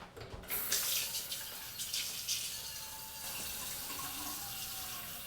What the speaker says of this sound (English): fill our pan about 3/4 full of water